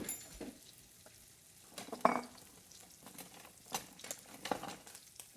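Ginger and onions sizzling in a wok with only one handle, soft frying hiss with occasional scrapes and clinks of a utensil stirring, fairly quiet and close.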